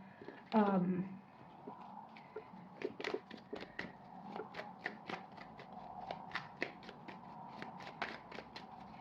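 Tarot cards are riffled once with a quick burst, then shuffled with repeated crisp, rhythmic snaps close up.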